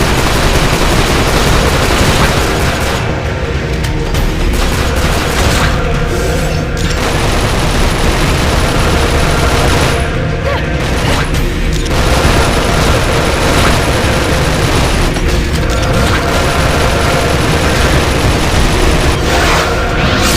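Sustained video-game gunfire in The 3rd Birthday, a dense, continuous barrage of shots and booms at steady loudness through the whole stretch, with no talk over it.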